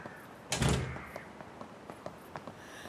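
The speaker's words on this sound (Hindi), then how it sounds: "दरवाजा बंद करो।" An indoor door swung shut in a home, giving one solid thump with a short rattle, followed by a few faint light taps and room noise.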